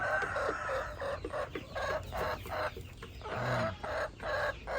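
Laying hens on a farm cluck in a busy, overlapping chorus, repeated rhythmic clucks at moderate distance with a steady background of many birds, no voices.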